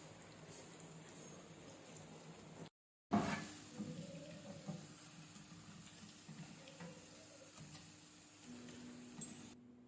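Potato lachha pakoras frying in hot oil, a steady soft sizzle and crackle throughout, briefly cut by a moment of silence before resuming at moderate loudness.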